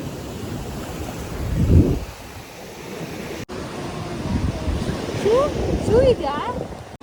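Surf washes continuously onto Kovalam Beach while wind buffets the microphone, a close, steady rumble with swelling gusts, and people can be heard talking over it.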